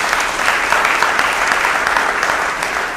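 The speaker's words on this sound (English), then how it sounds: "let's have a round of applause for our business administrator." Steady, dense applause from an audience honoring a city business administrator at the Paterson mayor's first-100-days event, loud and continuous throughout.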